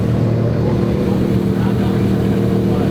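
A car engine idling after being fitted with a new turbo, a loud, steady low rumble that holds evenly with no breaks.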